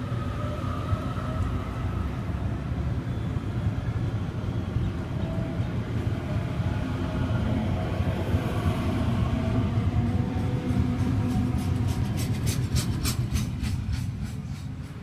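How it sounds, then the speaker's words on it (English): A Sydney Trains A-set electric train pulls away from the platform at Quakers Hill station, its steady low rumble and rolling wheel noise holding loud and close throughout, with rhythmic clicking entering near the end. "A74 now departing platform number 1, Hornsby service."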